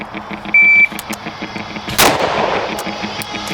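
A single loud gunshot cracks out on an outdoor shooting range in freezing conditions, sharp and close, preceded by faint background noise and a brief tone, with no talking.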